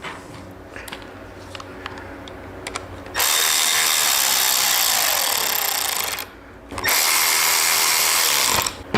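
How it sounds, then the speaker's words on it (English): A power drill runs screws back into a motorcycle crown tail light mount with split washers, a loud steady whine in two long bursts after some quiet handling clicks. "Go ahead and put your screws back in."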